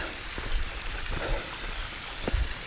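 A small stream flows along a mountain hiking trail, a steady close wash of trickling water with scattered splashes and footsteps on the path.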